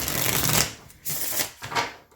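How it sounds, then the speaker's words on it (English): A Llewellyn Tarot deck being shuffled up close, several quick riffling bursts separated by brief pauses, crisp and papery with no talking. "I give it a shuffle and I lay 3 cards"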